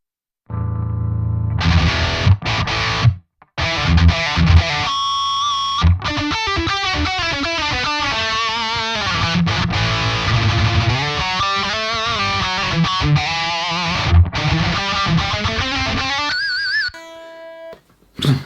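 Loud, heavily distorted electric guitar riffs, cutting off abruptly into near silence between phrases through a noise gate, the gated stops sharp and clean.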